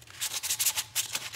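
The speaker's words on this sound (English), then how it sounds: "Do a little sanding" Rhythmic strokes of sandpaper rubbing wood, about a dozen quick back-and-forth passes, close and steady with no talking.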